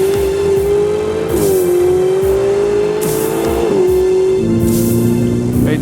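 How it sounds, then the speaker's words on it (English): A Ferrari 488 GTB engine roars loudly and continuously, its pitch climbing through the gears with brief dips at each shift. "Acceleration in 5th gear."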